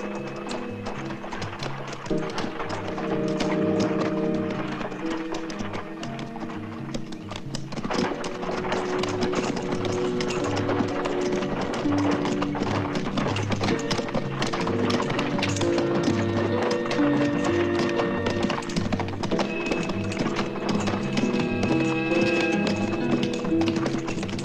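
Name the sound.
horses pulling a cart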